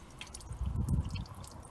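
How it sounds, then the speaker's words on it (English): Water splashing and dripping as it drains out of the windshield washer fluid bottle of a VW T5 van, an irregular wet trickle with gurgles, fairly quiet and close. "So this water that is pouring out now is smelling sweetly fresh."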